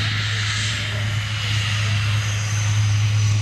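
A SEPECAT Jaguar jet's engine runs at a steady, loud roar with a deep low hum and broad hissing wash, constant throughout the short stretch at an air museum event.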